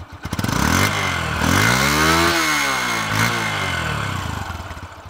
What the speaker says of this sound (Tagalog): muffler sound ng XTZ125. So Yamaha XTZ125 guys, ayan yung tunog niya.